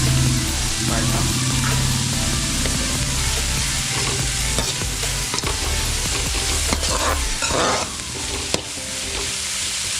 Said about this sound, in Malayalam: നമ്മുടെ ഉള്ളി നല്ല രീതിയിൽ വഴണ്ട് വരുന്നുണ്ട്